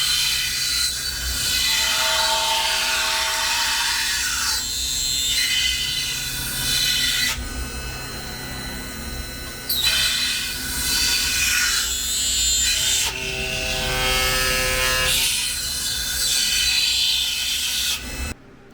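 A CNC machine drills holes and then routes the perimeter of a vacuum-molded Kydex knife sheath, giving a steady loud mechanical whir with tonal motor whine that shifts pitch between passes, running alone with no talk.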